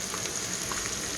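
Butter sizzling and frying in a hot pan while wagyu steak cooks with fresh garden rosemary, a steady, dense crackling hiss with small pops, close and continuous, no talking.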